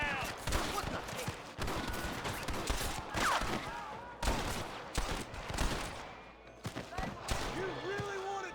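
Rapid gunfire in the Western video game Red Dead Redemption cracks in repeated bursts and single shots, mixed with game sound effects and shouted voices.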